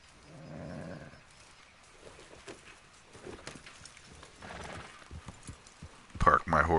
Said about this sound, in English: Park my horse near the tent.